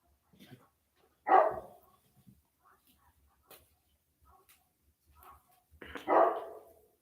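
A dog indoors lets out two loud, separate barks several seconds apart, with quiet stretches and faint small sounds between them.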